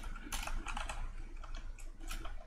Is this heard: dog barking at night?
no